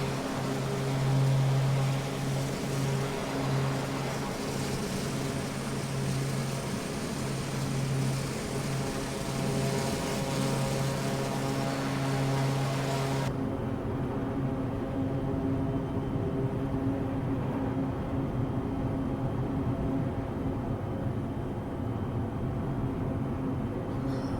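Airplane engine drone in a flight video game, a steady continuous propeller hum whose tone shifts partway through, sustained and even with no talk.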